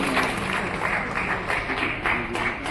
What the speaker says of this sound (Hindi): एक बार फिर से जोरदार तालियां माननीय मुख्यमंत्री जी के लिए।